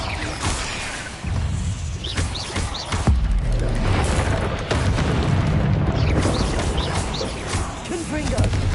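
Explosive spell blasts from the video game Hogwarts Legacy, a string of loud booming bursts and crashes over dense game noise, with voices talking throughout.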